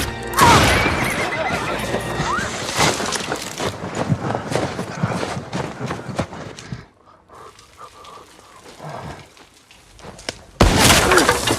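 A horse whinnies in a tense frontier survival film scene set in the wilderness, loud and close amid dense clattering effects and movement, dropping to a quieter stretch before another sharp burst at the end.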